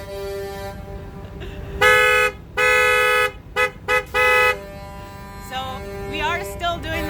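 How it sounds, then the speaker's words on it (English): Car horns honk at a protest convoy in Ottawa, with long sustained blasts and shorter toots alternating over a steady traffic rumble, some overlapping and distant, with faint voices underneath. "are still doing the honking thing."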